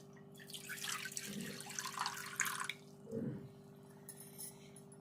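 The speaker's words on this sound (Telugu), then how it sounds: "ఒక కడాయి పెట్టుకొని ఈ నీళ్ళు ఇందులో పోసుకొని" Water poured into a kadai (wok) while making rice-flour snacks, a faint trickling splash over a steady background hum, with a couple of low gurgling bursts.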